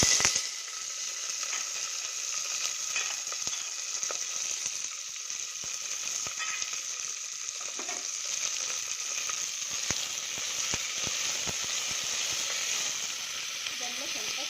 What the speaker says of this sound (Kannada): ಇದೆಲ್ಲ ಸ್ವಲ್ಪ ಫ್ರೈ ಆಗಲಿ.